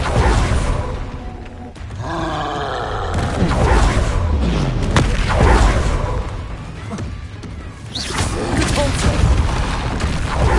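Loud, dense battle noise from Hogwarts Legacy spellcasting, with repeated blasting Confringo explosions, booms and whooshes roaring continuously across the scene alongside other spell effects.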